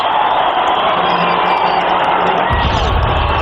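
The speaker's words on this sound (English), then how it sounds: "as the crowd was chanting TD for Terrell Davis" Denver Broncos home stadium crowd chanting TD for Terrell Davis during a 1998 NFL game against the Seattle Seahawks, a loud, continuous roar of massed voices that swells near the end.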